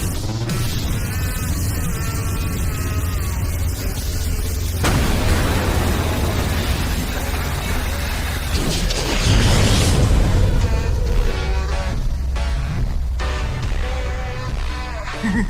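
Loud, sustained explosive roar in an animated story, rumbling and crackling continuously with bursts of booming debris throughout, dense and close with no clear pause.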